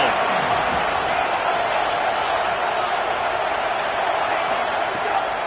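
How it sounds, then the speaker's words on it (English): A football stadium crowd roars in a dense, continuous wash of noise at a game against TCU, loud and sustained throughout, with a commentator's voice mixed in. "This crowd ready to make its presence known."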